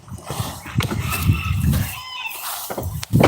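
Chickens cluck and squawk nearby outdoors in a busy, irregular chatter of short calls, with scattered farmyard noise.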